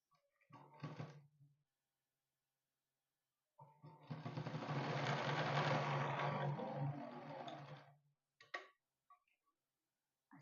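A sewing machine stitching elastic into a pajama gives a brief run, then a longer steady whirring stretch of about four seconds, with a few small clicks around it in a quiet room.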